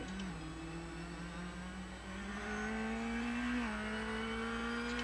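A BMW DTM race car engine in Assetto Corsa holds a steady mid-pitched drone, dips briefly at a gear change and then climbs again. It is fairly close and heard alone.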